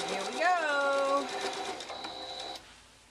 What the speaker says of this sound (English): I'm down to my last pass of sewing